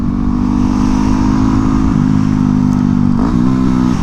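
A Yamaha WR250X supermoto motorcycle runs fast on dirt with a loud, steady engine drone close by, its pitch dipping slightly twice and rising again.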